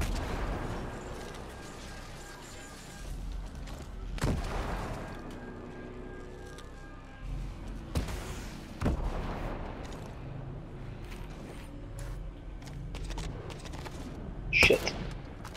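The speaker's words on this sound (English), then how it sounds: "Rocket launcher." A rocket launcher fires and detonates in Ghost Recon Breakpoint, with several heavy booms spaced through a rumbling gunfight, broad blasts over steady background noise and a sharp bright crack near the end.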